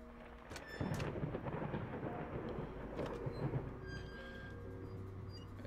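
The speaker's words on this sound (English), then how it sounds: "damn thunder need to chill" Thunder in the horror video game Layers of Fear, a long low rumbling roll that swells after a second and lingers for several seconds, with a few faint clicks and a soft tone over the steady rumble.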